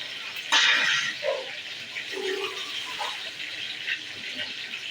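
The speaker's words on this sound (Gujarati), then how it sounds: "ને ડુંગળી તો હવે ધોઈ નાખશું પાછી" Tap water runs while onions are washed, opening with a brief gush and settling into a steady splashing trickle at close range, with no clear talking.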